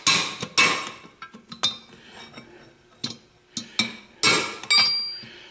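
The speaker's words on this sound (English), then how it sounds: "I got a lot bigger hammers than this one." A hammer strikes metal during the teardown of a Quincy QT 7.5 air compressor: sharp, ringing clanks in irregular bursts, some single and some in quick pairs, loud and close with brief gaps between.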